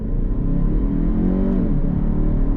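A 2022 Kia Stinger GT-Line pulls away on throttle from a stop, its engine droning loud and close with rising harmonic tones under a constant low rumble from inside the cabin.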